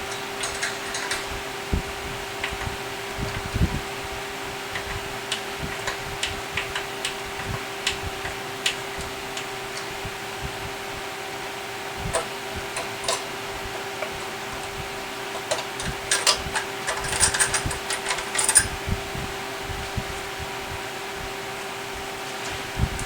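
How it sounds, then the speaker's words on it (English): Small metallic clicks and taps while tremolo springs are worked out of a 1979 Washburn A20-V guitar, sparse and irregular over a constant hum, with a busier cluster of rattling near the end. "I'm going to have to take the springs out"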